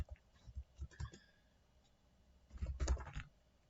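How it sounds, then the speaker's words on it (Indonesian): Typing on a computer keyboard while configuring a MikroTik router in VirtualBox: sparse, quiet key clicks in an irregular rhythm, a few isolated taps early, then a denser, louder burst of keystrokes near the end. "Saya ngetik emang masih kurang bagus, kurang cepat."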